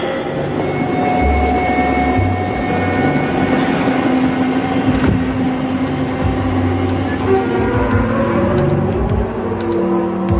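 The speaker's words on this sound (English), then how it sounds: "Last train before curfew." Train departure sound effect in an audio drama of Le Guin's The Dispossessed: a loud, steady rumble of rolling rail cars with low engine drone and faint horn-like tones, continuous for ten seconds.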